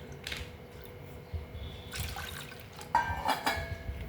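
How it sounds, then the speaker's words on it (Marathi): Water is poured into a bowl of buttermilk in a few short splashing gushes, with soft sloshing between them. "पुन्हा एक वाटी पाणी घालू आपण इथं"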